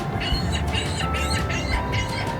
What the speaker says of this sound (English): The seagulls have an opinion on question number 8.